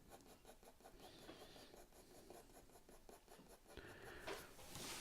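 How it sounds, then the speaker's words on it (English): A 2B pencil shades paper in a steady run of soft, close scratchy strokes, quiet and alone, ending in a louder rubbing burst near the close. "So just getting some more value now into this shaded area with this 2B pencil."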